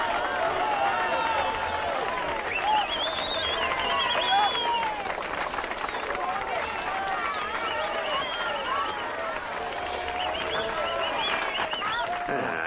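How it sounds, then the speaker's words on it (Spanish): Audience applauding and cheering for a band as they come up on stage at an award presentation, a dense, steady wash of clapping and crowd noise throughout with voices mixed in. "¡Un aplauso para ellos!"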